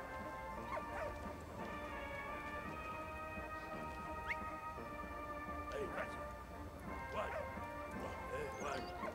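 A dog in the video game Valiant Hearts The Great War gives short yips and barks over a quiet game background, with someone talking throughout.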